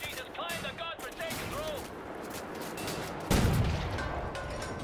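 Gunfire in the video game Wolfenstein: The New Order, a dense spray of shots running steadily under the action, with a louder, heavier burst near the end.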